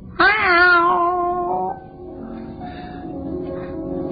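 In a radio drama scene set in an alleyway, a white cat lets out a single drawn-out meow, loud and close, which then gives way to a faint, low background hush.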